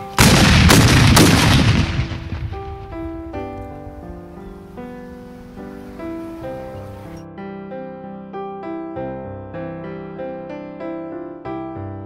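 A memorial rifle volley fired on command for a 2nd Texas Frontier memorial in Abilene, opening with a loud cluster of sharp shots that die into a long ringing decay while sustained tones carry on afterward.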